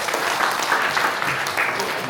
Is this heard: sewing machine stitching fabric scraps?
no